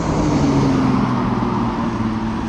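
A car drives past on a street in Shkoder, Albania, a loud, close engine rumble and tyre roar that stays strong throughout with a steady low hum.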